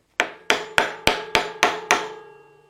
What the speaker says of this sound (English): You might need to take a hammer and a piece of wood to smash that thing in there